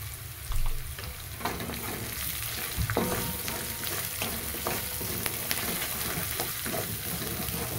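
Spiced masala with turmeric roasts and sizzles in a pan, a steady frying hiss with repeated spatula scrapes and stirs throughout, close and moderately loud with no talking.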